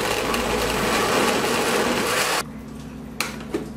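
An electric blender whirs loudly and continuously as it mixes cream cheese into a green sauce, then cuts off abruptly and leaves a quiet hum with a couple of small knocks.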